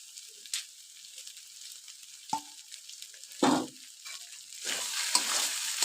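Coriander leaves are stirred by spoon into a mash of fish and vegetable stems in a pan, giving scattered scraping and clinking strokes over a faint, steady sizzle.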